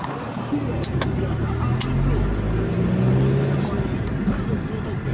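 Ford Focus driving, a steady mid-pitched engine and road rumble heard from inside the car, with faint clicks and someone talking over it.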